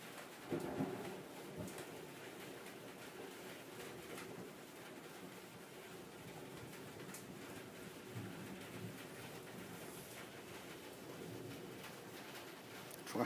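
Steady, dense rain pours down during a thunderstorm, a continuous close hiss and patter with no voices and no distinct thunderclap.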